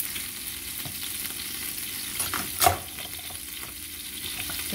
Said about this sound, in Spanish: Entonces aquí lo voy a freír así, amigas, un rato para que se caramelicen las cebollas